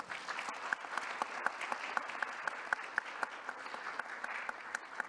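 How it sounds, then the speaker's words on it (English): Steady applause from a conference audience, a dense patter of claps with a few sharper individual claps standing out, fairly distant and even in level throughout, with no voices over it. "Please give them a big round of applause."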